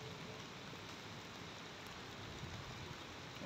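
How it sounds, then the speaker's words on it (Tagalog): Steady, constant rain falls on surfaces outdoors, a continuous even hiss with no pauses, moderately close and fairly quiet, heard alone without talk. "Panay-panay ang ulan."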